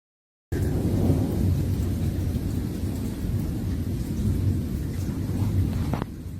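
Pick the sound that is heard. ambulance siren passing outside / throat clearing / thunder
thunder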